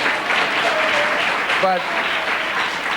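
Studio audience applause at a late-night political talk show, a dense steady wash of clapping under a man's brief spoken word.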